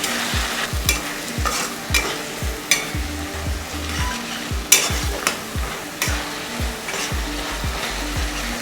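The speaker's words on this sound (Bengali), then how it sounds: "টমেটোটা দিয়ে এবার ভালো করে একটু কষবো।" Tomato and spices are stir-fried for a Bengali katla fish curry, a loud close sizzle with rhythmic scraping strokes of the spatula roughly every half second.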